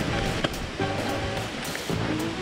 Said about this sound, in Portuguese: chegamos na beira do rio